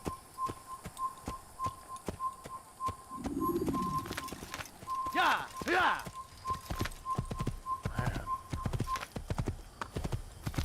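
A horse's hooves clip-clop in a steady, rhythmic gallop while being ridden in the Assassin's Creed video game, joined midway by a short whinny and some whistling bird-like calls.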